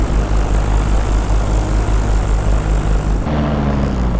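A small propeller aircraft engine under throttle, a loud droning buzz with a pulsing low beat that holds steady, then drops abruptly in pitch and intensity near the end.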